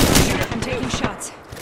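Rapid gunfire in the video game Apex Legends, a tight series of quick, loud shots over about a second and a half, with a voice speaking underneath.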